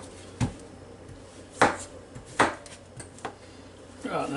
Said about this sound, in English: we'll do this zucchini the same way, except I'm going to slice it down the middle